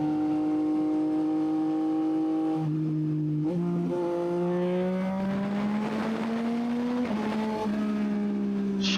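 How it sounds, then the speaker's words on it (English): A tuned car's exhaust under a slow turn, a loud droning engine note that dips and climbs as the revs change, with sharp crackling pops breaking through near the end. "Oh, those pops. They're so loud."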